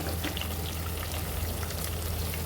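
Brinjals sizzle and fry in a pressure cooker over a medium flame, giving a steady, dense crackling hiss that holds throughout with no talking.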